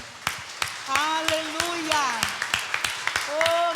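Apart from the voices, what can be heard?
congregation applauding in church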